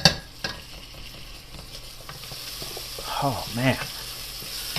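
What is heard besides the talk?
onions sautéing in a pan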